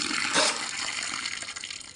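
Water gushes steadily into a washing machine tub, a loud continuous splashing rush that swells briefly early on and then flows on evenly.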